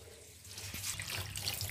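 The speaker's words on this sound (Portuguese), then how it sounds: "Tá tomando banho na bacia" Water pours and splashes while a child is bathed in a basin, a continuous close rush of running water that swells slightly, with no talking.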